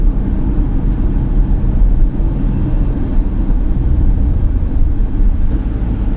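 A 2014 Porsche Macan S in Sport Plus mode, its exhaust giving a steady, loud, low rumble from inside the moving car, with no talk.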